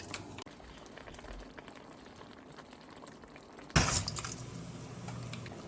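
Salted water at a rolling boil with spaghetti noodles in the pot, a constant soft bubbling that jumps to a sudden loud clatter and hiss partway through, then settles into heavier bubbling.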